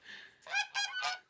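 Geese in a barn stall on a 40-acre farm honk three times in quick succession, loud and close, after a brief quieter call at the start.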